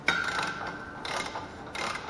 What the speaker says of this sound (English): So I'll adjust my torque wrench, torque it back down here to 50 foot-pounds.